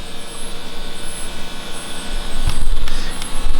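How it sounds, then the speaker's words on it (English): A loud LSX V8 with an 8-into-1 exhaust manifold and no silencers, fitted in an E92 M3, roars steadily with a heavy low rumble that swells louder near the end. "who doesn't want to hear a really loud 8-into-1 manifolded LSX engine?"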